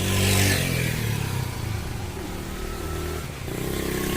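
A Honda CD 70 motorcycle engine revs briefly then settles into a steady buzzing idle, close and loud, with no talking.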